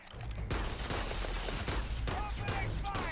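Gunfire erupts in the space game Starfield, a sudden loud fusillade of overlapping shots that keeps crackling for a few seconds alongside combat noise, with voices heard through it.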